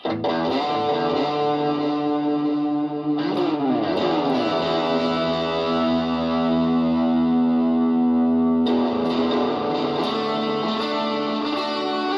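An electric guitar played through a Boss DS-1 distortion pedal and an Electro-Harmonix Canyon delay in echo mode rings out in sustained, heavily overdriven chords and bends, each trailed by repeating echoes, loud and close.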